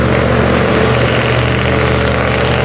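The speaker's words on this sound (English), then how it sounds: "that sound is a truck that goes by every day and he makes a giant fart noise with his tailpipes" A passing truck makes a loud, continuous, droning tailpipe rumble close by, a heavy flatulent blare that holds steady throughout without talking.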